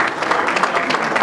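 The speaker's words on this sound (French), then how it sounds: "il faut les applaudir parce que c'est un exploit" Spirited audience applause at a reaction event for Ferre Gola and Wenge 4x4, loud, close, rapid clapping throughout the short burst.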